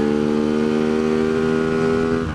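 A Tianda TDR300 motorcycle on a race track, its engine droning loud and close with a steady, even pitch in second gear, no voices.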